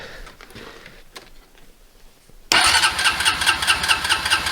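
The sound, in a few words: Honda TRX350 ATV engine starting with dual snorkels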